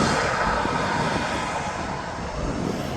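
Jet engines of a Jet2 airliner at Birmingham Airport give a loud, steady, broadband roar that holds unbroken, with no talk.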